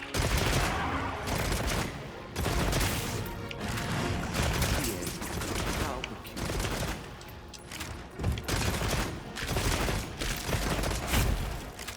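Rapid bursts of gunfire from a Monster Hunter Wilds hunt, loud and sustained, with dense repeated shots and brief gaps between volleys.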